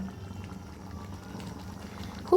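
Split chickpea dal simmering in a pot just after ghee and garam masala go in, a steady low bubbling that holds evenly throughout, with a small clink near the end.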